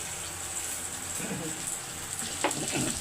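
Hilsa fish frying in hot oil, a steady close sizzle with a few brief stirring or turning sounds near the end.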